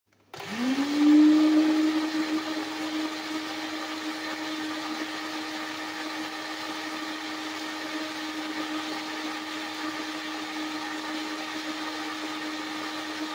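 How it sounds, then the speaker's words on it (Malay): A blender grinding shallots, black pepper and brown sugar starts up with a rising whir, then settles into a steady, loud, continuous grinding hum. "aku akan blend sekali dengan bawang merah dengan lada hitam"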